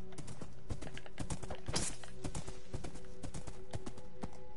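Minecraft horse hooves clip-clop in a quick, steady rhythm, close and clear over a low electronic hum.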